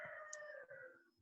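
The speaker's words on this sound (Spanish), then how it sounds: "Ese gallo está bacano." A rooster crows at a distance, one long drawn-out call that fades at the end, heard faintly under a quiet room's background hum.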